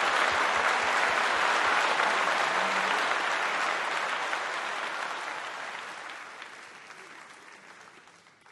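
Audience applause at a gala concert in Timișoara, a loud dense roar of clapping that holds steady and then gradually fades away over about eight seconds.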